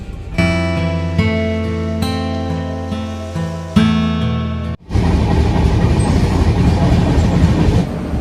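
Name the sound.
Humsafar Express train running through heavy rain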